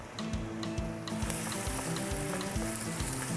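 Onions, leeks and garlic sizzle steadily in a soup pot, a dense close hiss broken by regular scraping knocks of a spoon stirring, and no one speaks.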